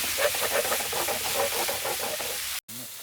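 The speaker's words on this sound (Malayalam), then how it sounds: "കുറച്ച് പുളിവെള്ളം ഒഴിച്ചു കൊടുക്കാം" Tamarind water poured into a hot pan of chilli and coriander powder, giving a loud, steady hiss and sizzle that carries on for about two and a half seconds, then cuts off abruptly.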